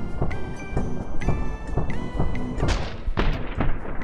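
Rapid shotgun blasts and bursts of gunfire from the video game My Friend Pedro, loud and close, firing repeatedly in a dense volley over busy game music.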